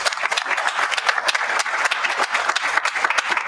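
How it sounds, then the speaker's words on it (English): Audience applause in a town council chamber, a few seconds of brisk, fairly loud clapping with distinct individual hand claps popping out of the crowd sound. "Give ACTS another round of applause."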